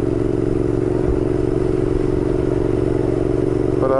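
A motorcycle engine idles loudly and steadily close by, a rough throbbing drone with a brief clatter near the end.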